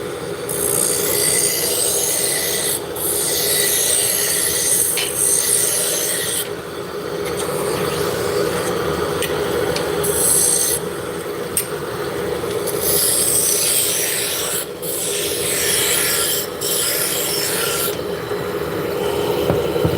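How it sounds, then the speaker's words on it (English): A roughing gouge cuts a spinning wood blank, producing a loud, continuous rasping scrape with bright hissing bursts that come and go as the tool engages. "we're going to start out with the roughing gouge"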